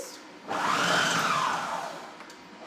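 A Magimix Cook Expert food processor pulses cauliflower pesto in one short whirring burst of about two seconds, rising in pitch and then easing off, with no talking.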